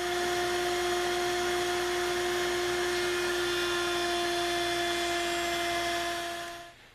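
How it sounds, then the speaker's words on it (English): A woodworking router with a 3/8 inch radius bit rounds the bottom edge of a wooden side-table frame, giving a loud, steady high-pitched whine that holds evenly and then winds down at the end. "we use a 3/8 inch radius bit to round off the bottom of the frame"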